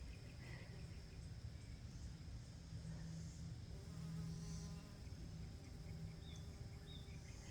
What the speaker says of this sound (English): oh look, there's a bee.